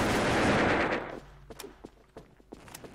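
Gunfire in the online shooter Wolfteam: a dense, loud burst of rapid shots at first, then fading into scattered single cracks and clicks spaced irregularly, without talk.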